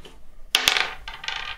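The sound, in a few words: dice thrown in a children's board game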